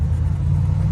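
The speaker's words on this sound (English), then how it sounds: "taking the truck for a little drive here after we installed those drop springs in the front" A 1969 Chevy C10 long bed pickup, newly lowered on front drop coil springs, rolls along with a steady, loud low engine rumble and road drone, no voices.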